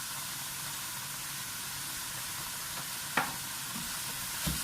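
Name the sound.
onions and beef mince frying in a pan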